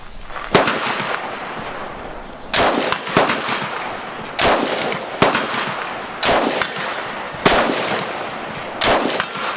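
Norinco Type 97 bullpup rifle firing outdoors, six sharp loud shots spaced roughly every one and a half to two seconds, each followed by a ringing metallic clang from a struck steel target.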